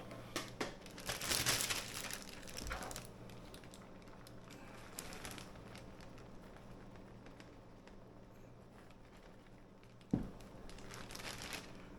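A Ziploc plastic bag holding all-purpose flour crinkles and rustles in bursts, fairly faint and close, with no talk.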